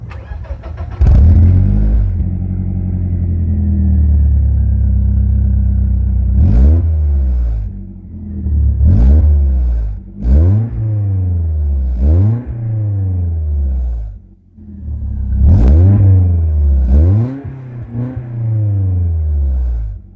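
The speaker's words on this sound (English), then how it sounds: "So that was the exhaust." A Fiat 124 Spider's exhaust revs repeatedly in sharp bursts, each climbing and falling away, loud and close with a steady idle between blips.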